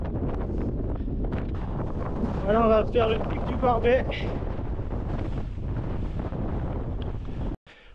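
Strong wind roars across a mountain summit on the Pic du Barbet during a 33 km trail race in the Canigou massif, a loud continuous buffeting over the microphone that cuts off abruptly near the end, with someone talking over it.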